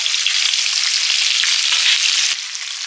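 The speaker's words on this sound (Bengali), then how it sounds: "এদিকে সিলভারকা মাছগুলো ভাজা হচ্ছে" Silver carp fish fry in hot oil, a loud, close, steady hiss of sizzling with a faint tap near the end.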